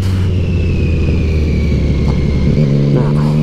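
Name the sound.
motorcycle riding and braking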